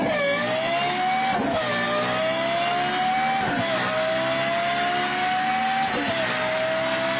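A Lexus LFA sports car engine screams at high revs close by, its pitch rising steadily through gears with brief dips at each shift, loud and sustained without any talking.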